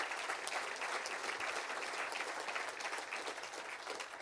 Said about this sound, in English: I just want to give Jeremy a round of applause on behalf of the Kurdish people